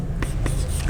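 Marker or chalk strokes on a board during a chemistry lecture on carbohydrates, two short scratchy strokes close by over a low room hum.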